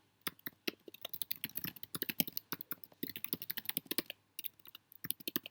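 A customer note is typed on a computer keyboard. Close, fast, uneven clattering keystrokes run in bursts with brief pauses, and there is no talking.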